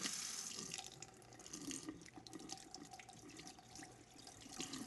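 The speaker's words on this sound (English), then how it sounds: "these are really easy to get rid of just by rinsing them under the water" Tap water runs into a sink while corn cobs are rinsed under it to remove the silks, a soft continuous splashing stream with small irregular splatters, faint and close, with no one talking.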